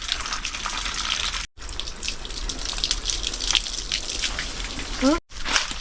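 Natural water gushing steadily on a banana farm, a continuous bright splashing flow at close range with two brief cuts, voices chatting over it.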